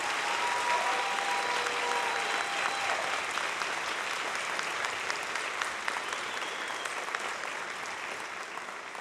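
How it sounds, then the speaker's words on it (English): Audience applause at a senior high band camp performance, a dense, steady wash of clapping that holds loud throughout and tapers slightly toward the end. "Let's give these ladies and gentlemen a round of applause"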